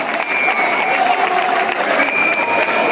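Steady, dense applause from an audience filling a pub during a charlotada event, continuous clapping throughout with crowd murmur underneath.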